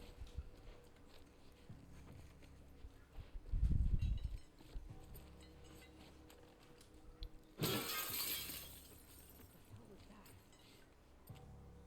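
Glass panes shattering in The Last of Us Part 2, two separate breaks: a low heavy crash followed seconds later by a bright, longer burst of splintering glass, both over quiet game ambience.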